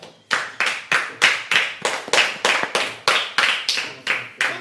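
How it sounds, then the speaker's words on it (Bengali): A group of children claps their hands together in unison during a puzzle-game challenge, about thirteen loud, sharp, evenly spaced claps at a brisk steady rhythm, close by. "হাততালি দাও সবাই"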